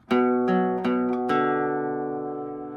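Four plucked electric guitar notes ring out in a short, even phrase, the last one sustaining and slowly fading; clean tone, no voices.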